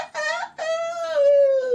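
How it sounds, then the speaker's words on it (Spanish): A rooster crowing, one close, clear cock-a-doodle-doo with a short opening note followed by a long drawn-out call, heard alone. "¿Y cómo es el gallo"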